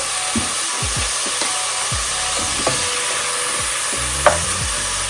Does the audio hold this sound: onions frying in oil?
yes